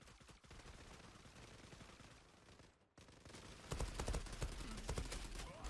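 Rapid AK-47 gunfire in a video game, sustained bursts throughout with a brief pause near the middle, then louder, denser shots toward the end.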